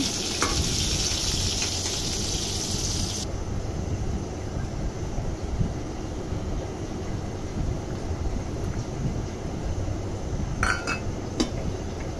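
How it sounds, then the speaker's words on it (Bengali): Sliced eggplant frying in oil in a kadai wok, a steady dense sizzle and crackle throughout, with an early high hiss and a few light metallic clinks of utensils near the end. "আর এর ভিতরে বেগুন কেটে দিয়ে দিয়েছে এগুলো ভেজে নেওয়ার জন্য"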